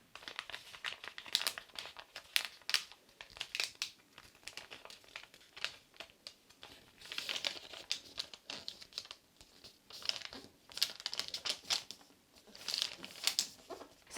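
Paper sewing pattern being folded close by, with soft irregular crinkles and rustles in bursts and short pauses, no talking.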